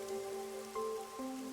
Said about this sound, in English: The rain, it never stops.